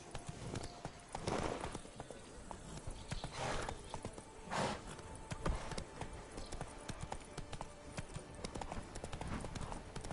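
Roach the horse gallops in a video game, rapid rhythmic hoofbeats pounding steadily and close for the whole stretch, with a brief whinny mixed in and no talk.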